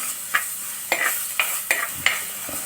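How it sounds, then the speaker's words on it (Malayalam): Masala sizzling in a pan for Kerala fish curry, stirred in five or six distinct scraping strokes over a steady frying hiss, close and fairly loud, with no talking. "ഇനി നമുക്ക് ജസ്റ്റ് ഒന്ന് ഇളക്കി കൊടുക്കാം പച്ചമണം മാറുന്നിടം വരെ"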